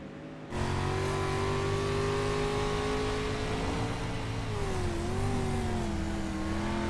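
Street stock race car engines roaring steadily on an oval track, a loud sustained drone that rises and dips slightly as the field runs the white flag lap.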